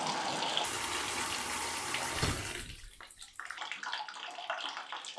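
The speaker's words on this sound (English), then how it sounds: "And turn the water on." Water gushes from a faucet into a bathtub with a repaired drain stopper in a strong, steady stream, then the flow shifts and thins partway through.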